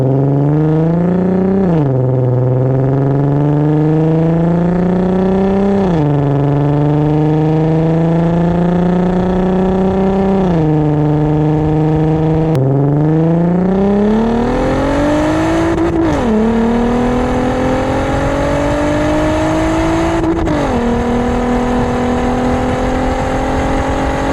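A Porsche Cayenne engine with an aftermarket exhaust revs hard and close, its pitch climbing repeatedly and dropping between pulls, with a loud throaty exhaust note throughout.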